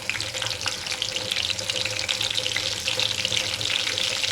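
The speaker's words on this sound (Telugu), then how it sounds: "కొంచెం వేడైన తర్వాత మనం దీంట్లో ఎల్లిపాయలు అనేది వేసేసుకుందాం" Garlic fries in a hot pan with a dense, continuous sizzle and crackle, close and lively throughout, with no voices over it.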